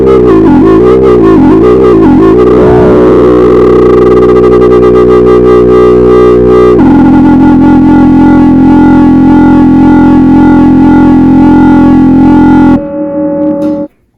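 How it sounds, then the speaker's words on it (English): A loud, harmonically rich wobble bass on a Moog Grandmother analog synthesizer wobbles and sweeps in filter, rhythmically pulsing, then settles into a sustained droning tone before cutting off abruptly. "A nice wobble bass sound, rich in harmonics, real classic sounding on an amazing synthesizer."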